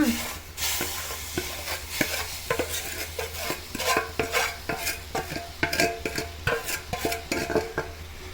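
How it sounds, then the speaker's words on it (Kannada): Roasted semolina being stirred into boiling water in a pot, a busy run of repeated scraping and clinking spoon strokes against the pan over a soft low bubbling, close and with no talk. "ರವೆ ಹಾಕಿ ಚೆನ್ನಾಗಿ ಇದನ್ನು ತಿರುಗಿಸ್ಬೇಕು"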